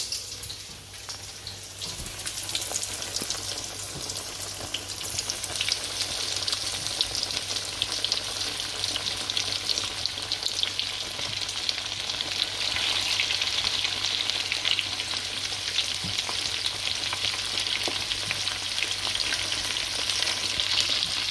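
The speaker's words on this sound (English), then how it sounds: "My oil is hot, ready to go. So I'm going to put my chicken in." Partly cooked chicken pieces frying in hot oil on a stove, a steady loud sizzle and crackle that holds for a long stretch without talk.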